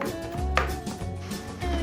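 A knife chops garlic and garden thyme coarsely on a board, several soft irregular knocks and cuts heard close up against a faint background hum.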